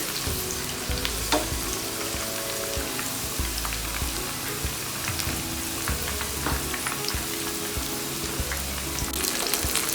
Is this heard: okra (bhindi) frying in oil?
yes